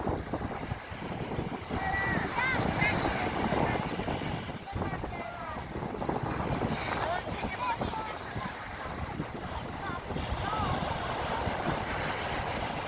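Ocean waves wash onto Gangneung beach under strong wind buffeting the microphone, with people talking nearby throughout.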